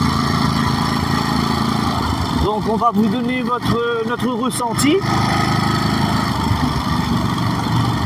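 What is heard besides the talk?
Ducati Monster SP 950 motorcycle engine idling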